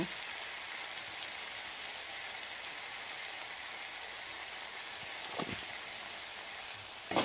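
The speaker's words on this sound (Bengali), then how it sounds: "ভালো করে আবারও কষিয়ে নেব।" Tomato, salt and turmeric masala being sautéed for a mixed vegetable dal, giving a steady, close, rain-like sizzle with a couple of brief louder clatters near the end.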